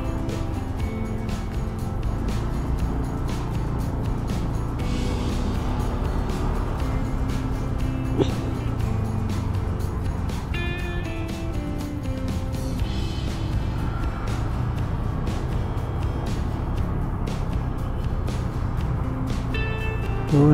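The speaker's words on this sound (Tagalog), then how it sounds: "Lupit ng mga motor na to." Street traffic in San Andres, Manila, with motorcycles riding past: a continuous engine drone at moderate distance, individual bikes swelling and fading through the flow over about twenty seconds.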